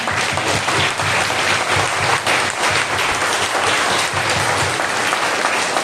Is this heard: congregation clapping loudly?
yes